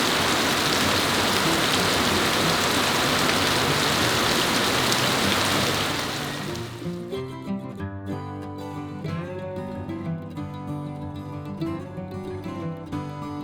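Heavy rain pours steadily during a bike ride on the TransAmerica trail, a dense loud hiss that drops away after about six seconds into quieter ambience with tonal background sound.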